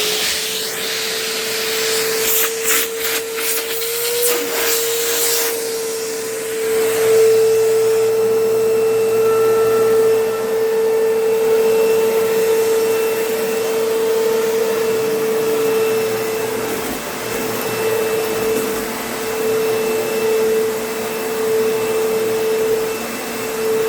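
A 2002 Kenmore Progressive direct-drive vacuum cleaner runs steadily with a strong hose-suction whine and a constant airy roar, near and loud. A few brief clicks sound early on, and there is no talk.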